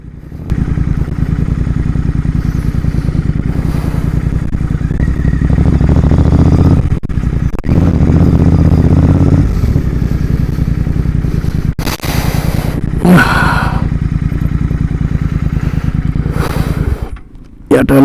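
A Rider 650 motorcycle cruising along a road with a steady, loud engine drone and road noise, brief dips and rattles as it slows and brakes; a rider speaks intermittently over it.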